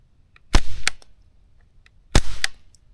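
A fully functional 3D-printed AS VAL replica fires two loud, sharp shots about one and a half seconds apart, each a close, punchy report followed by a short rattling tail.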